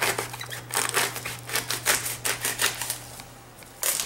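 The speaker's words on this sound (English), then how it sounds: "what I like to do is just peel the outer layers of the cabbage off" Outer leaves being peeled off a head of cabbage: a run of crisp, crackly snaps and rustles at close range, coming in irregular bursts over a steady low electrical hum, with no talking.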